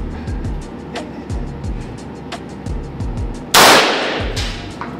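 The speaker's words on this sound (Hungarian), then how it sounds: "10 méterről 5-öt lövünk revolverezzel, János." Revolver shots from an X-Calibur fired at a 10-metre range ring out as sharp spaced cracks over steady outdoor rumble, then one much louder close blast with a long ringing tail near the end.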